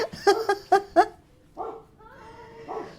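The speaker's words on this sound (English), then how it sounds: "that's your dog barking in the background" A dog barks several times in quick succession in the background of a phone-style conversation, sharp yips and bow-wows near the start, followed by quieter voices talking.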